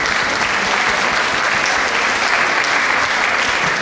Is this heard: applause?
yes